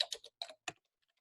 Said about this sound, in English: I'll type in the two binomials.